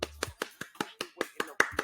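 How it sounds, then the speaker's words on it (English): Slow, deliberate hand clapping, about ten crisp claps evenly spaced and close, sounding alone. "Hold on, let me applaud that"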